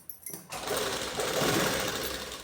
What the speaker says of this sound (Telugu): ఈ మిషన్తో వేసుకుంటేనే పెద్ద కుట్టు బాగుంటుంది